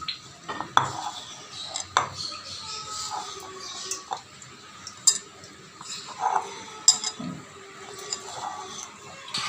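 Taro pieces being tossed with rice flour and oil in a bowl, giving soft irregular scrapes and light clinks of a utensil against the bowl, close and moderately quiet, with no talk.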